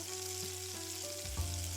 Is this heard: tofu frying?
yes